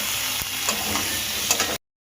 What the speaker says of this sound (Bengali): হ্যাঁ, এবার ওলটা দিয়ে দিচ্ছি।